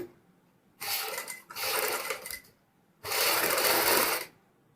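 A sewing machine stitches a boat neck blouse in three quick runs: two short bursts close together, a pause, then a longer steady whir, all close and clear.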